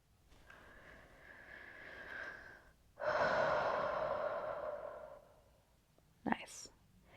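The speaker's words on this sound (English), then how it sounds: "One more breath." Slow, deep yoga breaths taken close up in a quiet room: a long, soft inhale, then a louder, fuller exhale that trails off, followed by a brief sharp sniff.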